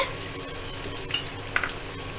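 Cumin seeds, mustard seeds, chopped garlic and ginger sizzle steadily in a hot pan with a few light stirring clinks, close and fairly loud.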